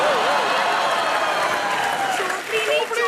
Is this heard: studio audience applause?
yes